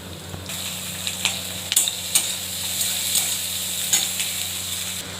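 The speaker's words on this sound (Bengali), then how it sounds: "কলমি শাকটা ভাজছি" Water spinach (kalmi greens) fries in a pan, sizzling steadily while a spatula stirs and scrapes in several sharp clinks and knocks.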